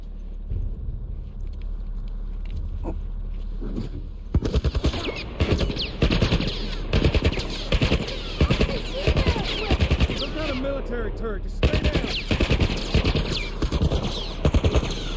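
Rapid bursts of military turret machine-gun fire in The Last of Us Part 1 remake, loud and sustained after a quieter start, with repeated volleys and impacts crackling over the game's background.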